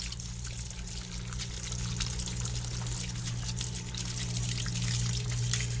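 Water is changed in a tank of baby eels, pumped in before feeding. A steady, fairly faint trickle and pour runs continuously throughout, with a low hum beneath and no talking.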